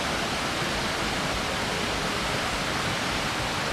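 Melincourt Waterfall in South Wales roars as a dense, steady, loud rush of falling water, unbroken and close, with no voices.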